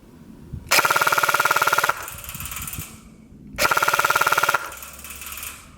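Two bursts of rapid, evenly spaced mechanical clicks, each lasting about a second, with quieter whirring between them, like a G&G RK74-E airsoft rifle firing semi-automatic shots close by.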